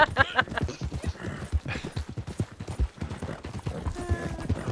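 Clip-clop of horse hooves in a western video game, a steady running gallop with occasional faint whinnies and game effects, while people talk over it.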